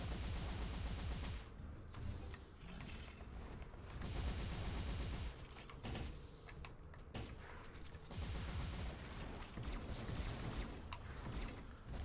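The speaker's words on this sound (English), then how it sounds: "Retro-style Gatling." A retro-style Gatling gun in the video game M.A.S.S Builder fires in rapid sustained bursts, loud and close, with short pauses between volleys.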